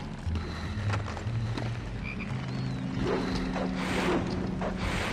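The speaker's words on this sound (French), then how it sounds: "Avec dedans une choco-grenouille." A chocolate frog croaks in the Harry Potter and the Chamber of Secrets video game, with steady low croaking that runs throughout over soft mechanical game ambience.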